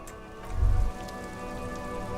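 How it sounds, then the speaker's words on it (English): Steady rain falls in the video game Disco Elysium, a dense, even wash of patter with a brief low rumble near the start, then continuing uniformly with no voices. "This rain will not let up anytime soon."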